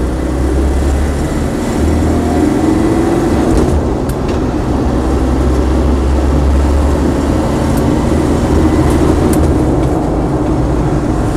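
A Land Rover Defender 90 with a 200TDi diesel drives along, its engine a steady loud drone from start to end while gears are shifted, with no clear breaks in the noise.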